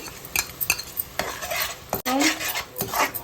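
Onion and green chillies frying in a pan while a utensil scrapes and clinks against the metal in quick irregular strokes over a light sizzle, close up.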